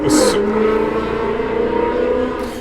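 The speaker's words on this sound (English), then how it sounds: "Shout out to the loud car outside." A loud car engine droning and revving steadily outside, a continuous close roar that swells and holds for a couple of seconds.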